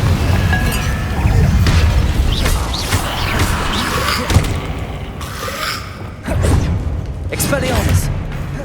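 Confringo blasting spell explosions in the Hogwarts Legacy video game, a run of booming thuds and crashing bursts with whooshes between them, loud and repeated over a busy combat mix.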